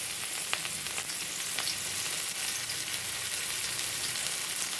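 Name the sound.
carrots frying in oil in a wok for fried rice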